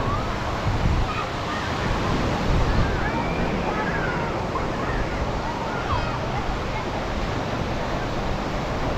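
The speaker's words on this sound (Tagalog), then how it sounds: "Ito yung alon." Constant roaring surf washes in on Sabang Beach in Baler, a broad steady rumble of waves breaking on the shore, with faint voices mixed into the noise.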